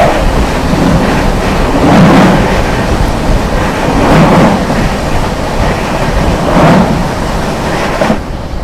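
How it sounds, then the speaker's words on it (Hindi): Lalgarh Prayagraj Superfast Express train passing a level crossing at high speed, a loud sustained rushing roar with rhythmic surges every couple of seconds as the coaches go by close to the listener. "दोस्तों सामने से आ रही है लालगढ़ प्रयागराज"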